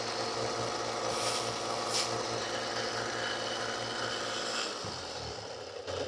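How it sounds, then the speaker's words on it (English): A small wooden monkey figurine is sanded by hand with sandpaper, making a steady, close rasping scrape that runs continuously over a low background hum, with no talking. "I'm gonna take a piece of sandpaper and sand it down even more"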